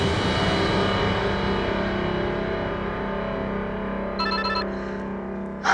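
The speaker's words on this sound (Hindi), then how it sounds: "जीत, मैं तुम्हें कब से फोन ट्राई कर रही थी" A telephone rings in a Hindi television crime drama, a continuous buzzy electronic ringtone filling the scene with a higher chirping pattern near the end and no speech.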